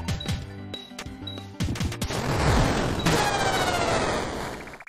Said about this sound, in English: with all the rockets I shoot, why was that rock a problem?